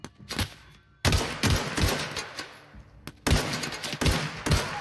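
Gunfire in The Outer Worlds video game: several sharp, loud shot bursts in quick groups, separated by brief pauses, close and dominant with no talking over them.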